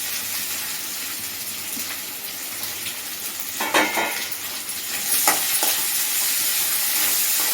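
Chopped tomatoes and onions with ginger-garlic paste frying in a pan for poori masala, a steady close sizzle with a few clinks and stirring scrapes partway through.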